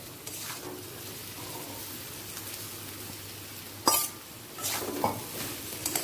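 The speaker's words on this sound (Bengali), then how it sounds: "আলু আর সয়াবিনটা মশলার সাথে ভালো করে কষিয়ে নিচ্ছি।" Fried potato and soybean are stirred into a spice mix in a pan, making faint sizzling with occasional sharp clinks and scrapes of a spoon against the metal.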